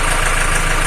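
A tractor engine idling, heard from inside a cab fitted with sound and vibration insulation and a raised air-intake snorkel: a loud, steady low rumble with an even mechanical throb.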